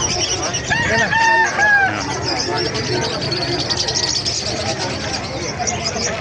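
Chickens cluck and a rooster crows in a noisy outdoor setting at a chicken market in Bocaue, Bulacan, with people talking throughout.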